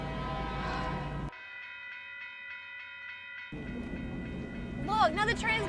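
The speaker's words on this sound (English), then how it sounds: "Look, now the train's gonna make us late." A train heads toward a road crossing while people wait in a car. It gives a steady tonal horn-like blare in the middle, with rumbling noise and voices before and after.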